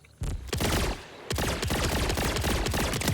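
Rapid automatic gunfire from the video game Borderlands 4 comes in dense repeated bursts with a short lull between them, loud and close, with no talking.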